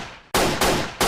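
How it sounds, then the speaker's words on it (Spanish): Three sharp 9 mm pistol shots ring out in quick succession, loud and close, each a hard crack with a brief decaying tail, following a moment of low background hiss. "levanta su mano en la que tenía un arma 9 milímetros y sin decir ni una sola palabra, comienza un tiroteo"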